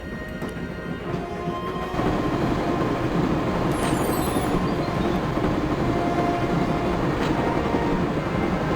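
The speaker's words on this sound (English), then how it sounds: "Let's check out this train." Steady, loud rumble of a train carriage interior in the Broken Sword adventure game, a continuous low clattering drone that thickens after a couple of seconds, with faint high squeals above.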